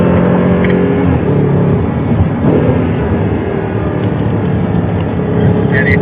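An Audi R8 engine drones loudly and steadily as the car powers out of a corner on a track, a continuous mechanical roar with rich low harmonics and no talk.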